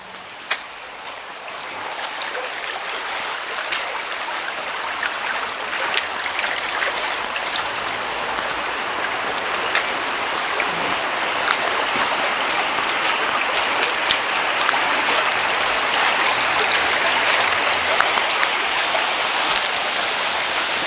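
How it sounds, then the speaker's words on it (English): A river runs past a village churchyard in Stoney Middleton in the Hope Valley, giving a steady, moderately loud rushing of flowing water that holds for the whole stretch with no talking. "a river running through it"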